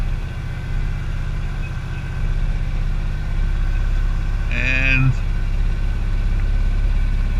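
A vehicle engine runs steadily with a low drone throughout, a brief tonal chirp partway through, and a single short spoken word.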